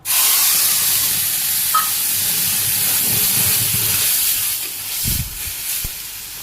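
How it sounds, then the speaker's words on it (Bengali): Cumin seeds dropped into hot oil set off a loud, steady sizzling hiss that holds for several seconds, then eases slightly, with a few soft thumps near the end. "তেলের মধ্যে আমি জিরা দিয়ে দিলাম।"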